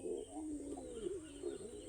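Fantail pigeons coo close by, a soft, continuous throaty warble that rises and falls in rolling pulses, alone and fairly quiet.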